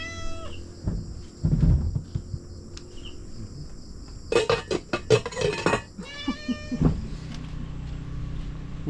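A domestic cat meows several times, close and fairly loud, with short drawn-out cries separated by pauses, over a steady background of chirping crickets.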